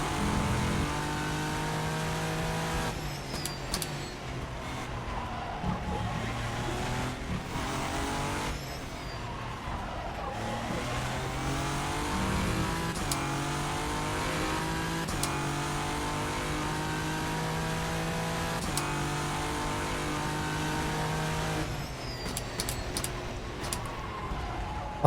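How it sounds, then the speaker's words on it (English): A race car engine in the rFactor 2 sim at Sebring screams through repeated upshifts and throttle lifts, its sound bouncing off trackside walls, with loud rising and falling revs and occasional brief tyre squeal. "All of a sudden the car makes reverbs off the wall, such a cool noise."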